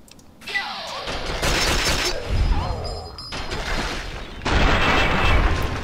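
Rocket launcher blasts in the video game Fallout 3: loud, rumbling booms and crashes that come in several heavy waves across a few seconds, close and dominant.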